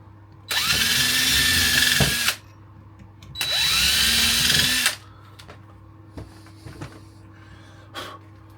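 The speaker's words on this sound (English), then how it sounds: "I'm going to pre-drill the back of those." Power drill pre-drilling wood: two loud bursts of whirring, about two seconds each with a pause between, followed by quieter handling clicks and knocks.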